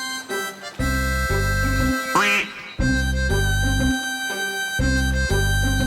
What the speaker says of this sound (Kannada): ಇದನ್ನ ನಾವು ಮ್ಯಾಲರ್ ಡಕ್ ಅಂತ ಕರಿತೀವಿ